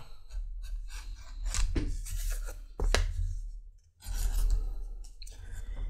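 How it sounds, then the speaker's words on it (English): An edge beveler is pushed along the edge of a leather block-cased phone holster. It makes rasping, scraping strokes, close up, in a few bursts with short pauses between them. "I'm going to take the edge beveler around up here in what's going to be the opening of the case."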